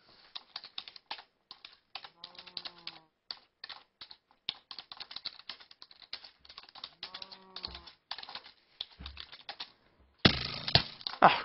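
Computer keyboard typing during a UHC game, quick irregular bursts of close clicking keystrokes with short pauses, ending in a denser flurry of louder keys.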